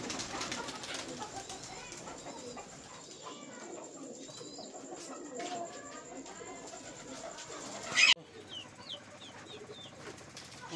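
Pigeons coo softly amid a busy background of chirps and rustling, with a short sharp flutter near the end.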